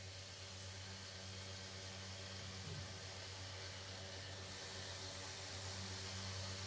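Steady broadband whir of an electric fan running in a hall, continuous and even throughout with a low hum beneath, no speech over it.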